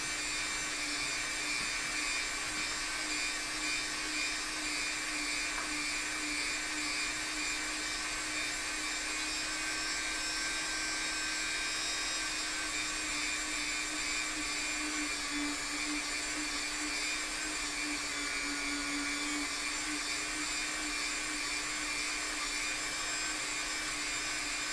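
A rotary sanding tool grinds steadily against a foam chicken mask, a continuous close, even whine and rasp with no breaks throughout.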